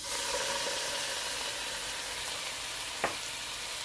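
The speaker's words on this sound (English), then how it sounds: "we're going to add our rice wine vinegar" Rice wine vinegar poured into a hot pan sends up a steady, loud hiss and sizzle, broken near the end by a single brief knock, up close with no talking.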